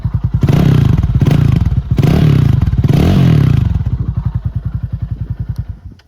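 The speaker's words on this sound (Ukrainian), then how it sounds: "Ось такий дуже приємний звук ми маємо" A Loncin CR4 250 motorcycle with a straight-through exhaust runs close by with a deep, bassy throb, revving briefly a couple of times before settling into a steady lumpy idle that fades.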